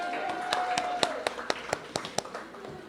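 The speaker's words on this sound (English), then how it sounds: "Another round of applause to Ms. Nguyen." Scattered claps from an audience at a community awards ceremony, sparse and evenly spaced rather than a full ovation, with a faint tone and voices beneath.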